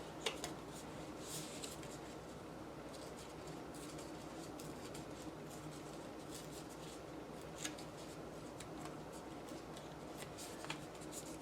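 Paper journaling cards, some of them cardstock, are sorted and shuffled during a craft session, producing faint, soft rustles and small flicks close by in a quiet room.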